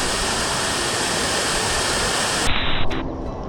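Huai Yang waterfall in Prachuap Khiri Khan, Thailand: a steady, loud, broadband roar of falling water that fills the whole clip, with a brief dip and a few small splashes near the end.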